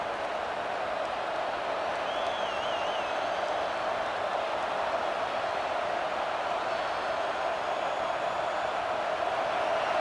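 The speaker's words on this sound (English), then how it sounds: "The crowd getting behind this defense as they try to get a stop in the red zone." Stadium crowd cheering in EA Sports College Football 26 at Wisconsin against Toledo, a constant dense roar sustained evenly throughout with no talk over it.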